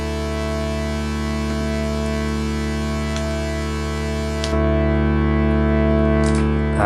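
A saw-down synth pad from a Line 6 Helix played without EQ: a steady, bright and buzzy sustained chord with harsh upper overtones, loud and continuous, swelling slightly partway through, with no voices.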